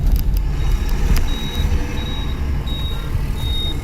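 Manual car moving during a driving lesson, with a steady engine and road rumble inside the cabin and a series of short, evenly spaced electronic beeps, loud and close.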